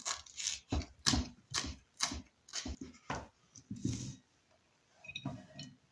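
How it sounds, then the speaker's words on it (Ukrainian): A knife chops fresh herbs on a cutting board, a run of quick sharp taps in an uneven rhythm, close but fairly quiet, pausing briefly before a few more cuts. "поріжемо нашу зелень"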